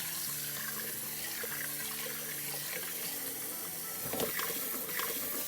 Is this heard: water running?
yes